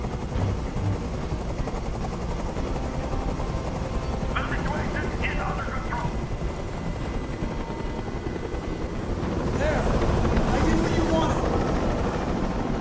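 Helicopter hovering in the video game Detroit: Become Human, a steady loud rotor drone running throughout with a brief burst of higher mechanical noise partway through.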